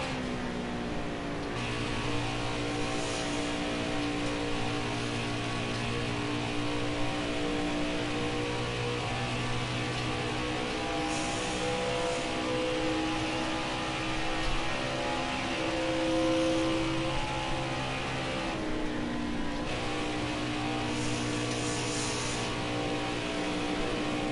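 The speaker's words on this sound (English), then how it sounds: "Listen to that engine purr." A steady race car engine drone from the video game GC Sports Slider Michigan, with shifting harmonic tones as the car cruises at speed, continuous and fairly loud with no talking.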